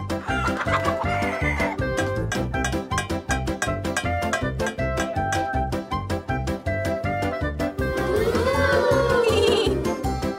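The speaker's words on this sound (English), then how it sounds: "Let's feed the chickens." Chickens cluck busily and a rooster crows while being fed ground corn, the birds' calls close and loud over rhythmic background music.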